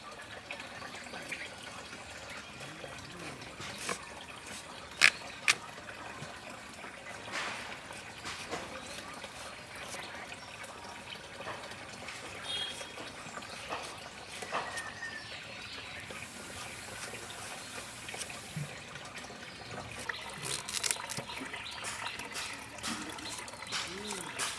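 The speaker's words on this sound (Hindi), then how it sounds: "ये पैनंग कुसु को काट के धो लेता हूँ" Chopped paina ko choo vegetable rinsed under running water, a steady trickle and gush with occasional clatters and splashes, heard close with faint birds in the background.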